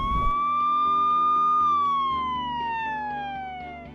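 A police car siren wails in a steady rising and falling tone, loud and close, sweeping slowly downward over several seconds with a low vehicle rumble beneath.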